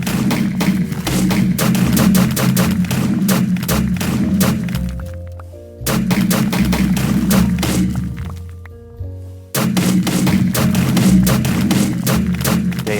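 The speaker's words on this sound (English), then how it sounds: "As you can see here, there's the small side cannon." Rapid, heavy thumping shots from a warship's small side cannon in Minecraft's Create Aeronautics and Big Cannons mods fire in dense bursts, with short pauses between volleys and a low mechanical rumble underneath.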